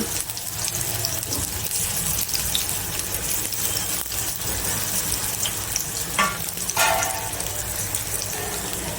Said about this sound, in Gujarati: જે આપણે કારેલા કોટિંગ કર્યું હતું એ આપણે નાખી અને એને પણ તળી લઈશું.